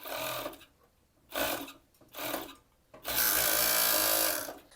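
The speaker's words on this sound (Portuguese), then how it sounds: "Passei a costura aqui na overlock, fechando fundo e laterais." An overlock sewing machine stitches the bottom and side seams of a cheeky bikini, running in three short bursts and then one longer sustained run, close and fairly loud.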